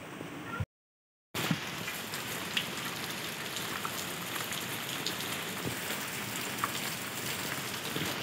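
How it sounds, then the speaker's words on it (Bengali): Heavy rain pours steadily during a storm with lightning, a dense continuous hiss of drops on surfaces with a few brief louder splashes, after a short gap of silence near the start. "তো এই যে এখন ঝমঝমিয়ে বৃষ্টি পড়ছে ভীষণ জোরে জোরে, আর বিদ্যুৎ চমকাচ্ছে।"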